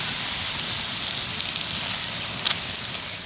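A steady, close hiss of rumali paratha frying in a small amount of oil on a pan, even throughout with only slight crackles and no voices.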